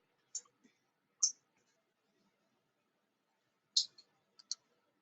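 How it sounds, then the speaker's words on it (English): A few sharp computer mouse clicks, isolated and close in near silence, with long gaps between them. "I'm going to go ahead and click assign"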